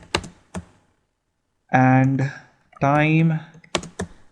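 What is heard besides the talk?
typing code on a computer keyboard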